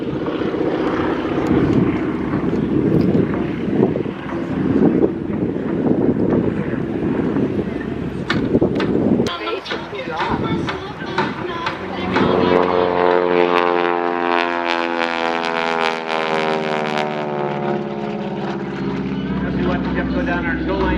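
An SNJ-6 propeller plane flies aerobatics at the Quad Cities Airshow, its engine droning loudly and steadily, then rising and falling in pitch as it passes, with a commentator talking over it.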